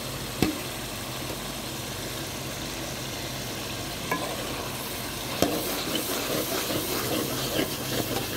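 Meat sizzles in a pan after half a cup of yogurt is added, a steady frying hiss broken by a few sharp clanks of a spoon stirring against the pan.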